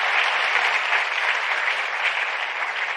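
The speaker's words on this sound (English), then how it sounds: "give one round of applause and thank you to these colleagues" Sustained audience applause fills a closing plenary session of the 2025 Science Forum South Africa, a dense, even wash of many hands clapping at steady loudness throughout.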